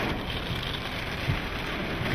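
Storm rain recorded through a window as a tornado approaches in a Texas supercell thunderstorm: a steady, fairly faint wash of rain and wind noise with a soft low thump, no talking.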